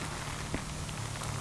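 Rain falls steadily during a motorbike ride recorded on a Drift action camera, a dense, even hiss of drops washing over the microphone without a break and with no voices.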